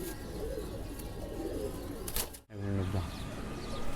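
Amber-headed pigeons coo low and close amid steady outdoor background noise, with a brief rustle partway through.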